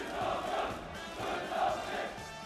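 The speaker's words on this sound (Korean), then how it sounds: "결사옹위의 우렁찬 함성으로 분출되어 11월의 하늘가에 끝없이 울려" A large crowd of security and law-enforcement personnel at a formal celebration in North Korea shouts loud, sustained cheers that swell in two waves, heard from a distance with no other voices over them.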